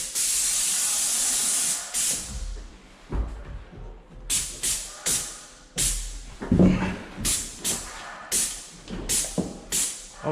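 A paint sprayer hisses in a long continuous burst, then in a run of short rhythmic trigger pulls while coating the spindles of a staircase, close and loud.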